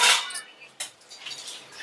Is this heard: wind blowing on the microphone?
no